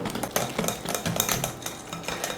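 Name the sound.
whisking cake batter in a bowl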